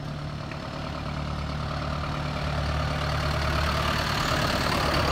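A tractor rumbles past on a road with no pavement, a steady low engine drone that holds fairly loud and grows slightly closer, with no one talking.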